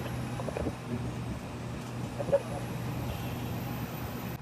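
Krishna Roadlines travel bus driving on a city road toward the highway, a steady low engine rumble with faint road noise throughout and a brief thump midway.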